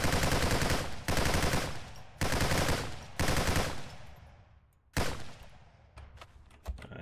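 Gunfire in a zombie shooter video game comes as loud, rapid automatic bursts, several in a row with short pauses between, the last few shorter and more scattered.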